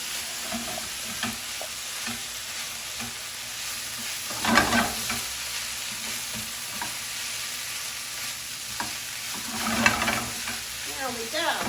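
Fried rice with garlic tossed and stirred in a hot pan, giving a steady sizzle with a few louder scraping bursts near the start and again toward the end, no talking.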